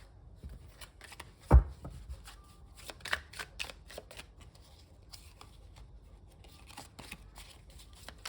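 Tarot cards are handled and shuffled at close range, a run of quick papery riffles and flicks with one heavier thump near the start; the surroundings are otherwise quiet.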